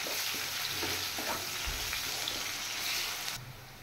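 Chopped onions fry in a pan for a katla fish curry, a steady hiss with scattered crackles and soft scrapes throughout, ending slightly quieter.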